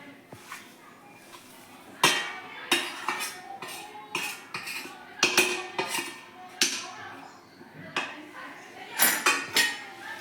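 Roasted dry fruits are mixed into jaggery syrup in a pan with a metal spoon, giving loud, irregular scrapes and clanks against the pan with short gaps between strokes.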